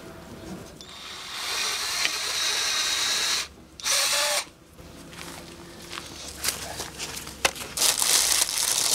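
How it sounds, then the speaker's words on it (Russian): A cordless drill whirs in bursts with short pauses while drilling pilot holes in wooden boards, bright and close, with scraping and crinkling handling noises between runs. "Нужно просверлить отверстие сначала, а потом саморез закручивать, а так доска трескает."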